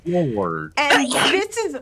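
A single sharp sneeze during a tabletop role-playing game session, loud and close, followed right away by people speaking.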